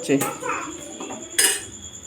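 Metal pot clatter while making crab curry: a lid clanks down onto the pot after coconut oil is poured in, two distinct metallic hits close by with a faint voice between them.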